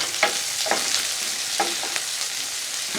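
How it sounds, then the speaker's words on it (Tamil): Onions sautéing in hot oil in a pan for a brinjal and drumstick kara kuzhambu, a steady close sizzle broken by several scraping stirs of a spoon, with no voices. "லைட்டாக வதக்கிக்கலாம்."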